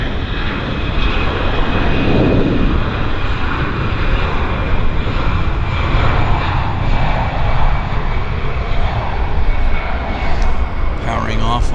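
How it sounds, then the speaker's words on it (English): A plane powers off a wet runway at Vancouver YVR airport on a rainy day, its engines roaring loudly and continuously with rushing spray, while a voice talks over it. "Powering off a wet runway is always nice to see, despite the weather."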